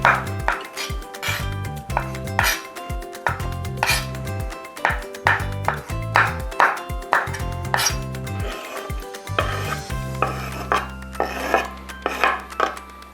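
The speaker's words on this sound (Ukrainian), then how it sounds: "великі грибочки розріжу навпіл або на три частини" A knife halves honey mushrooms on a board for a vinegret salad, making a steady run of sharp, evenly spaced chopping knocks, close and clear, followed by a scraping rasp near the end.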